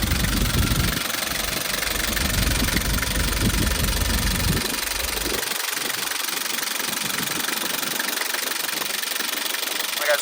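A 1995 Nissan Atlas with a 2.7-liter four-cylinder diesel idles nearby, a steady knocking clatter under a hiss that carries the whole way, while low rumbling thumps in the first half fall away after about five seconds.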